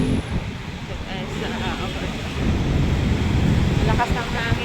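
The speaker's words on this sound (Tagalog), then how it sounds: "lakas ng hangin na, lakas ng hangin guys" Strong wind roars and buffets the microphone, a broad continuous rush that swells louder partway through, with faint traffic in the background.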